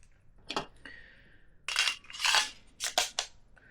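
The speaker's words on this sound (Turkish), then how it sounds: "Boş bir güvenli tarafa doğru da tetik düşürüyorum" A Canik Rival S pistol is dry-fired, giving a quiet series of sharp metallic clicks and snaps spaced irregularly over a few seconds, close up with no talking.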